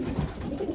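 Racing pigeons coo in a loft with low, soft, rolling murmurs, close and continuous, and no talk over them.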